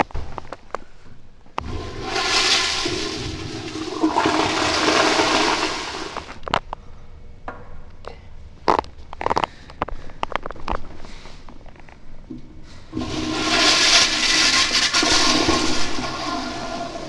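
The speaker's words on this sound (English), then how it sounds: "Alright, that's the toilet flush." A household toilet flushed twice, each a loud close rush of swirling water lasting a few seconds, separated by clicks, handling knocks and trickling refill noise.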